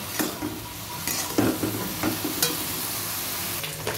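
Steady sizzling of banana stem with salt and turmeric frying in a kadai, with occasional stirring scrapes and clinks over the continuous crackle.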